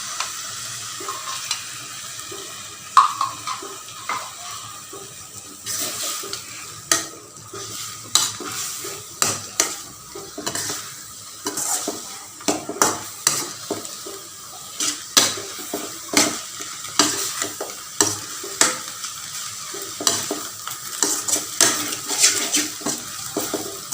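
Drumstick leaves and egg being stir-fried in a pan, with a soft continuous sizzle under repeated scraping strokes of a spatula against the metal, close and steady throughout.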